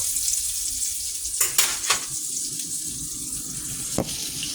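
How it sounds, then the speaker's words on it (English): Slices of green tomato fry in a pan with a steady sizzling hiss, broken by a few sharp spatters or scrapes as the pan is handled. No one speaks. "Let's fry them on the other side for a little bit now."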